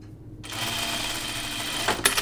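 A sewing machine starts after a brief quiet moment and runs steadily for about two seconds at a close, even whir, with a few sharper clicks near the end.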